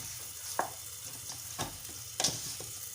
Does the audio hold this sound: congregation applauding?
no